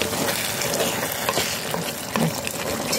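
Fresh shrimp frying in butter in a pan for a tomato shrimp spaghetti, giving a steady, close crackling sizzle throughout with a few soft stirring scrapes and no voices.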